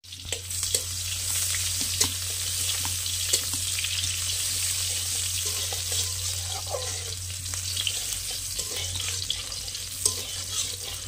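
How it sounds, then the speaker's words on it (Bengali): A spice paste for a potato dish fries in a wok over an earthen stove, sizzling steadily nearby. Intermittent scrapes and knocks from stirring break through, and a low hum sits underneath. "আমি এখন মশলাটা কষানি করছি"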